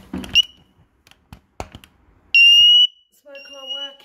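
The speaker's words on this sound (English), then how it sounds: "Smoke alarm working." A loud, shrill smoke alarm beep sounds once for about half a second during a test, followed by a fainter electronic tone, amid tapping and handling noises.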